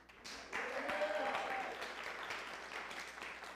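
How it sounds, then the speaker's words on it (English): Brief clapping from a Unitarian church congregation during a Sunday service, a quiet, somewhat distant patter of hands lasting a few seconds with faint voices mixed in. "Let's clap for Jamie."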